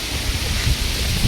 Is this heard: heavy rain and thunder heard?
yes